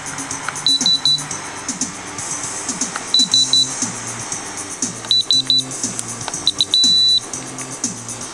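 Timer beeps from a Spektrum DX6i radio transmitter played through a crystal earphone: clusters of short, high electronic beeps in groups of three or four, ending in one longer tone, with a faint voice and low room noise underneath.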